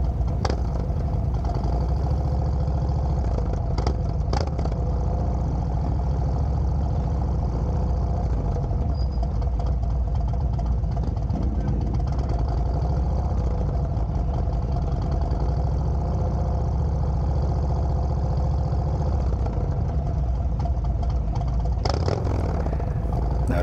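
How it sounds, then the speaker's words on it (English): A 2022 Harley-Davidson CVO Road Glide Limited with TAB Performance headers and 50 caliber slip-on exhausts idles at Daytona Speedway during Bike Week, a deep, loud, lumpy rumble held steady throughout with a few brief clatters. "Listen to those 50 caliber TAB Performance slip-ons with the TAB Performance headers."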